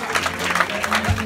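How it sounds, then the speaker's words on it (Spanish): Applause at a quinceañera during the last-doll ceremony, a burst of crowd clapping over steady low music hum, moderately loud and continuous for a moment. "Fuerte los aplausos. Fuerte esos aplausos"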